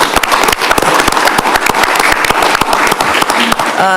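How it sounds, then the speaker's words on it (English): A room at a county commission public hearing breaks into a loud, sustained round of applause, many hands clapping densely for about four seconds before a voice begins at the end. "So I think that deserves a round of applause"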